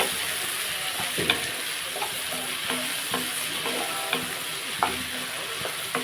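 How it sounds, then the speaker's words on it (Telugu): A spoon scrapes and stirs through ivy gourd and tomato curry in a sizzling pan, with repeated strokes over a constant frying hiss. "ఒకసారి మళ్ళీ కలుపుకుందాం అలా మనం కలుపుకుంటూ ఉంటే"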